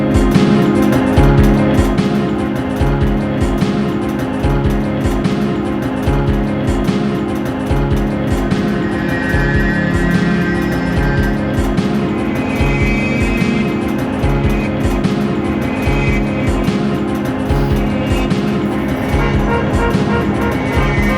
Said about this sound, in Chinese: 这里头大部分的声音都是汽车喇叭声。